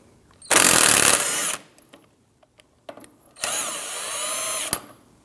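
A power tool spins a shallow 24mm socket to remove the inner tie rod jam nut on a 2009-2017 Audi Q5 steering rack. Two loud, close whirring bursts are separated by a gap of small clicks.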